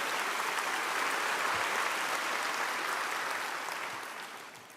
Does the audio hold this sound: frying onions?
no